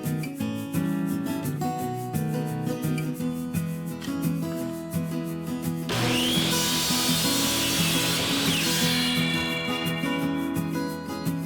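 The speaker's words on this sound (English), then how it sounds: "The first part of the process is to cut 12-inch pieces out of this 4x4 board." A saw cuts through a 4x4 wooden board into 12-inch pieces, a steady loud rasping grind throughout that grows brighter and harsher midway through the cut.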